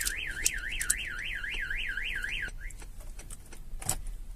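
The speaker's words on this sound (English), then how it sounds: "If I put the key in the ignition and try and start it, it will trigger and won't start." A Starline van alarm fitted to a 2018 Mercedes Vito sounds close and loud as a rapid warbling siren for about two and a half seconds, then cuts off, leaving a few clicks and rattles.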